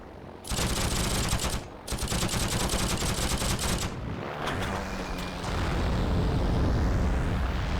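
In the Heroes and Generals war game, a P38 fighter-bomber's guns rattle in dense rapid bursts, then bombs drop and blast in a rumbling explosion that rolls on into a loud sustained roar.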